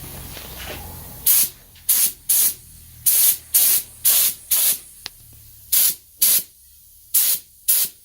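Paint is sprayed onto a Spitfire engine head for a 1941 Dodge WC army truck, heard as about a dozen loud, sharp bursts of aerosol hiss in an uneven rhythm, each lasting under a second, with quiet gaps between them.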